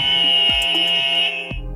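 A quiz show buzzer sounds loud and close during a road-safety quiz about bikes and scooters. It is one sustained electronic tone with no talk over it.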